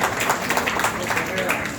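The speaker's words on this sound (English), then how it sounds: "Can we have a round of applause for" Applause from a banquet audience at a charity food ATM launch, a brief, moderate patter of many hands blended with the speech of people in the room.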